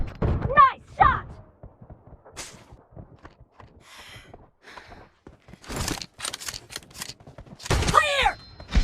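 Shotgun fire in the battle royale game BGMI (PUBG Mobile), a few sharp, punchy blasts spaced apart among game effects, heard alongside stretches of talking.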